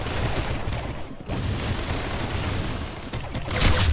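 Gunfire from a Roblox video game, a dense continuous burst of shots and impacts filling the whole stretch with little letup, growing louder near the end.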